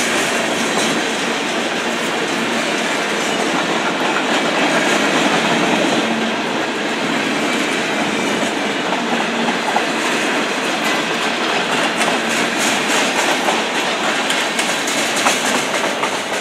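Norfolk Southern freight train NS 175, with boxcars carrying auto parts, rolls past at Parrott Ave, a steady loud rumble of wagons with clickety-clack wheel noise running throughout, no voices.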